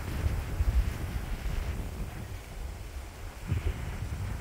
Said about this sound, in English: Breezy up here